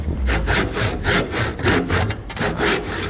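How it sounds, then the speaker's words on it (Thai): A hand saw rasps through wood in regular back-and-forth strokes, about a dozen even pulls, loud and close. "เลื่อยไปอีกนิดนึงนะครับ"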